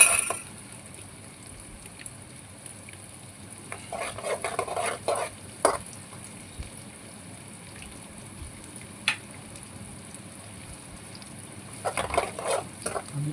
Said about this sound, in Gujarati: હવે નાખી દઈશું મીઠો લીમડો